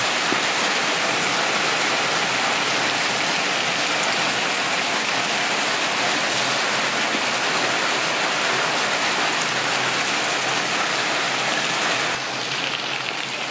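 Steady, dense rain pours without a break, forming an even wash of hiss close by for the whole stretch, with no voices.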